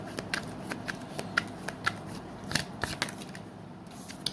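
Tarot cards being shuffled by hand, a run of crisp riffling snaps and soft card flutters in an uneven rhythm, close and fairly clear with no talk.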